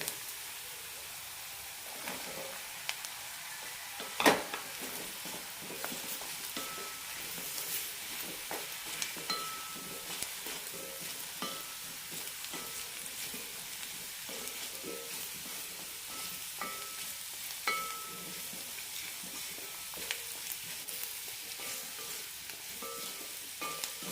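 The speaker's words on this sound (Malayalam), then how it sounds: "ഒരു മിനിറ്റ് നന്നായി വഴറ്റി കൊടുക്കാം" Drumstick pieces and green chillies sauté in a hot pan for a drumstick tomato curry, giving a steady, close sizzle broken by occasional stirring scrapes, with no talking.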